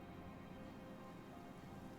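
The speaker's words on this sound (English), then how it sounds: "It's raining." In the video game Genshin Impact, rain falls as a steady, even hiss of countless drops on surfaces, constant and fairly soft throughout with no voices.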